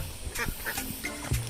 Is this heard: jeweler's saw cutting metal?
no